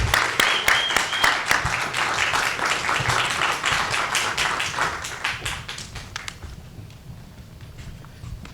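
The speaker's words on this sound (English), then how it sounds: "So please give a big round of applause for Marlon James." An audience at a writers' series reading applauds a novelist, a dense round of clapping from a crowd that starts strong and gradually thins out and fades.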